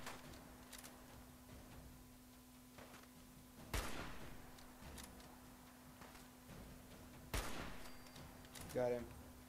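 Gunfire in the video game Fallout 4, a few sharp isolated shots spaced several seconds apart over a low steady hum, with a voice talking faintly in the background.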